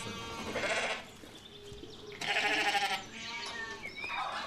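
Sheep bleat on an Edwardian-era farm, several wavering cries in close succession, some near and loud and others softer, over a low outdoor background.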